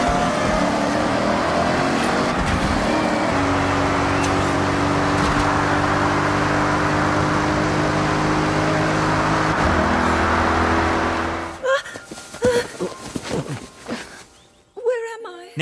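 Sports car in an open-world video game: a loud continuous engine roar with steady revving tones for about eleven seconds, then cutting off into quieter, scattered ambient sounds.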